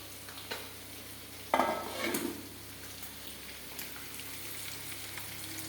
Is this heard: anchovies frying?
yes